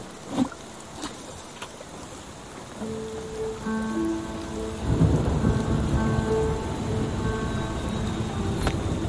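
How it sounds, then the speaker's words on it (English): Thunderstorm in the game Spiritfarer: steady rain hiss with a deep rumble of thunder swelling midway, joined by sustained tonal hums, continuous and fairly loud, with no voices. "Storm, let's try and catch some lightning."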